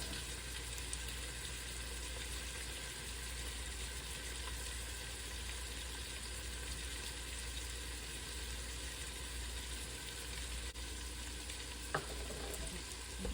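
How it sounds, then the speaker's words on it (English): Italian sausage and meatballs searing and browning in a pot while being stirred: a constant, even frying hiss with a single sharp clack near the end, quiet and unaccompanied by talk. "Just stir this. So this is starting to get brown now."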